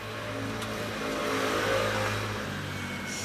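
A motorcycle fitted with a Yoshimura exhaust muffler accelerates past at a distance, its engine note rising and swelling to a peak midway, then fading.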